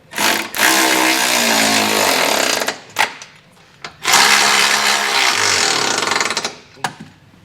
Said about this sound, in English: We're using an 11/16 socket, so go ahead and get everything tightened down.